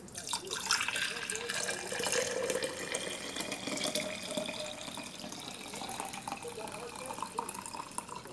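Homemade elderberry syrup poured into a quart-sized mason jar, a continuous close trickle and gurgle of thick liquid filling glass, with a person's voice heard over the pour.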